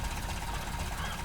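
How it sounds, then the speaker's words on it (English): A modded car engine in Red Dead Redemption 2 runs at a steady, unchanging drone with a rough buzzing texture that never revs up or down, close and continuous. "You notice the engine, that's how sort of buggy it is."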